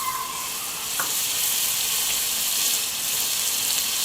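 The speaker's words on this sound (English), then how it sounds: "we're going to add some butter" Butter sizzling in a hot Dutch oven with bacon-soaked bread, a steady hissing fizz that holds evenly after a brief clink near the start, no voices.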